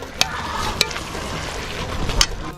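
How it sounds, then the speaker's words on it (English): Onion stir frying in a pan for Senegalese yassa, a steady close sizzle with a few sharp scraping clicks from stirring, no talking. "so we stir fry the onion"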